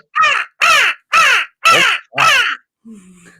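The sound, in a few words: person imitating a crow cawing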